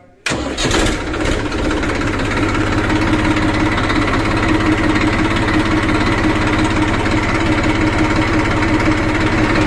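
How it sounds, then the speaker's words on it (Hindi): A 2012 Massey 1035 DI tractor's diesel engine cranks and catches, then settles into a steady, loud idle that runs close by without a break. "स्टार्ट करके भी मैं आपको चेकआउट करवा देता हूँ ट्रैक्टर"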